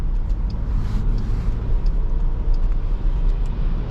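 A Jeep rolls along the road in roughly 40-degree weather, its cabin filled with a steady low rumble of engine and tire noise, continuous and close, with no talking.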